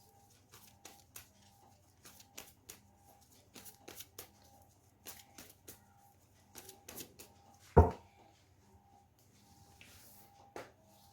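Osho Zen tarot cards being shuffled by hand, a quiet, close series of soft riffling and tapping bursts in irregular rhythm, with one louder knock near the middle.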